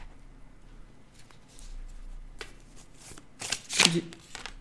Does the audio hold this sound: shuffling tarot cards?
yes